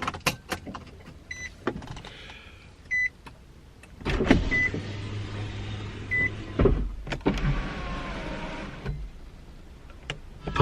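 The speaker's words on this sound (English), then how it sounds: "I need to open the window." Electric power window of a 2003 Infiniti G35 coupe lowering: a few switch clicks and ticks inside the cabin, then a sustained motor whine for about five seconds before it stops with a thunk.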